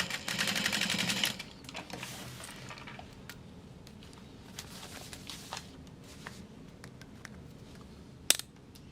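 A sewing machine runs a short burst of stitching along a seam on a small handbag, followed by quiet handling, scattered clicks and a sharp tap near the end.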